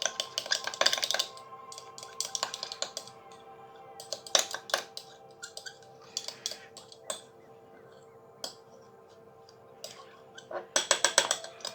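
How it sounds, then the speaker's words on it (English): Hibiscus petal powder slurry stirred in a small container, with light scraping and clinking taps of the utensil against the sides in irregular bursts, quiet between strokes. "Give this a wee stir to turn it into a slurry."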